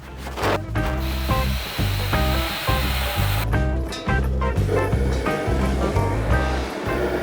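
Water rushes steadily into a brewing mash tun for a Czech lager, a continuous splashing roar close by with a layered mechanical hum running underneath.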